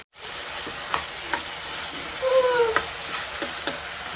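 Pea pulao sizzling and frying in a kadhai, with occasional scrapes and clinks of stirring over a steady hiss.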